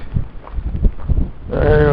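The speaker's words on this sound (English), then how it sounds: "Very windy here." Strong wind buffets an outdoor microphone, giving a rough, low, gusting rumble that rises and falls for over a second before a voice starts talking over the continuing wind noise.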